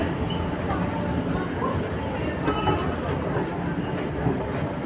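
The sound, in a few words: Paris metro train passing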